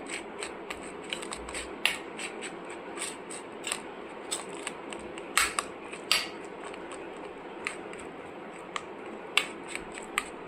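A spoon mixes mustard and poppy seed paste in a small bowl for an ash gourd fry, giving crisp, irregular clicks and scrapes close by against a quiet background.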